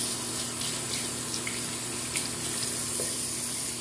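A tap runs steadily into a sink while warm water is readied for bathing a puppy, a continuous close splashing rush with a few brighter spatters, no talk.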